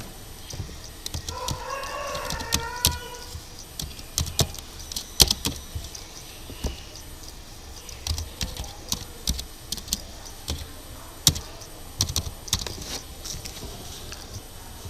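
Typing on a computer keyboard, a steady run of light, close key clicks in irregular bursts over faint background hum, with a rooster crowing softly in the distance early on.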